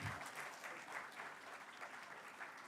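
Steady applause from a workshop audience after a session on chanting Sanskrit shlokas, many hands clapping together at a fairly quiet, distant level with no talk.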